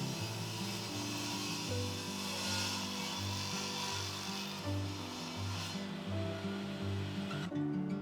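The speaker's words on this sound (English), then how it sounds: "Next I need to cut all the panels to length, and so this was done using the crosscut sled" Table saw on a crosscut sled cutting a long veneer plywood panel, a steady loud motor hum with a constant whine and rough rasping cut noise, ending abruptly as the blade clears the wood.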